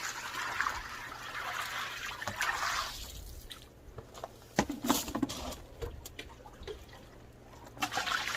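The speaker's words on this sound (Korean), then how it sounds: "물 부어 주시고요" Water pours onto light kanuma potting soil in a container, a broad splashing trickle for the first three seconds, then thinner drips and patters as it settles and soaks in.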